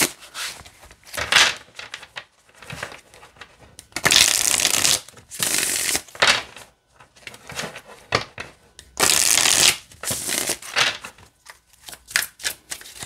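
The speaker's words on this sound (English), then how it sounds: "let me show you how it shuffles" Tarot card deck riffled and shuffled by hand in repeated bursts, with crisp papery flutters and louder clattering runs near the middle and later, close and with no talk.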